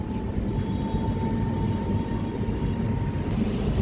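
An almost empty train on the run to Rishikesh rumbles steadily from inside the carriage, a loud low continuous drone with a faint whine above it and no voices.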